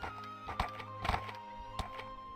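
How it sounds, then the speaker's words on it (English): Horse riding in a video game, with hooves clip-clopping in scattered thuds over a steady tonal game backdrop, fairly faint with no talk. "Oh, the struggles of horse riding."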